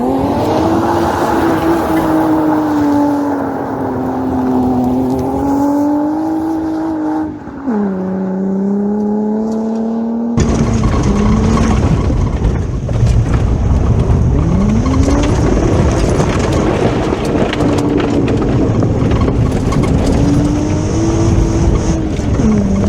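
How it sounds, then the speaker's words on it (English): A car with a 30-valve V6 engine is driven hard, revving high and climbing through gears in sweeping pitch changes, loud and close, with brief tire noise and a harsh cabin-like roar in the second half. "I really like these 30 valve V6 engines."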